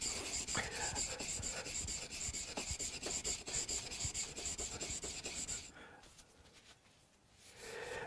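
A chisel's side being scratched on a luthier's bench during a Hofner Galaxie guitar restoration gives a close, steady rasping rub for most of the stretch, easing off near the end.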